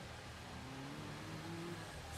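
A car engine revs in the racing game Forza Horizon 3, quiet and distant, its pitch climbing through two rising sweeps over a soft constant drone, with no speech.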